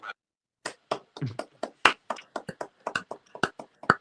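Close, sharp handclaps from one or two people ring out in an irregular string of about a dozen separate slaps, with short gaps of silence between them.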